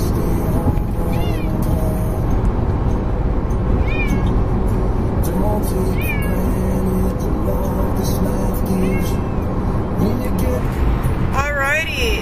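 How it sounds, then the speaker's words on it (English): A grumpy cat meows again and again inside a moving car on a long road trip to West Virginia, its rising cries recurring every couple of seconds over a steady road and engine rumble. "I've one grumpy kitty. He has been meowing the whole time."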